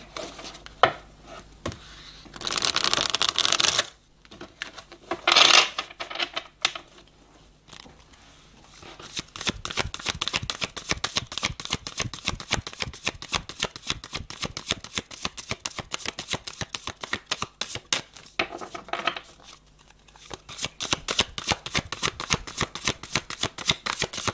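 Tarot cards being shuffled and drawn close up, with a dense riffle of crisp card flicks and slaps in bursts, then long steady runs of rapid card snapping.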